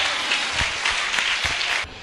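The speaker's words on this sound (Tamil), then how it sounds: "கைதட்டு." A church congregation at Miracle Shekinah Assembly in Chengalpattu claps together, a dense, loud burst of applause that runs steadily before easing off near the end.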